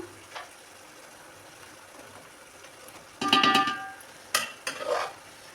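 Partly cooked everyday rice is tipped into a pan with eggs for biryani and stirred, giving a couple of brief bursts of scraping and sizzle over a faint, quiet background.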